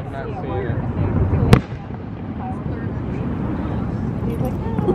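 A firework bursts over Lake Winnipesaukee at night with one sharp, loud crack, then a fainter pop follows, heard from a boat as people talk throughout.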